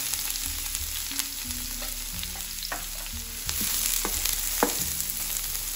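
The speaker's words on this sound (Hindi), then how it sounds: "जब ये गर्म हो जाए तो आप इसमें ऑयल डाल लीजिए, ऑनियन डाल लीजिए, प्याज" Onions fry in oil in a hot pan for a pasta dish, giving a continuous close sizzle with frequent sharp stirring clicks and scrapes and a low hum underneath.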